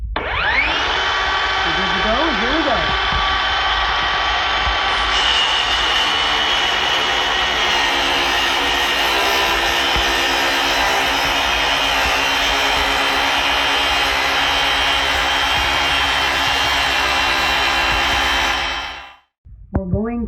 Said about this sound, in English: keep the guard of the saw right up against it so I get a nice straight cut